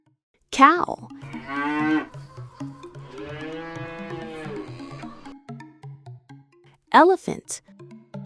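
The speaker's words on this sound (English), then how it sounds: "cow." A cow lets out two long, resonant moos in succession, loud and near, over a gentle repeating musical backing, with short voice sounds at the start and end.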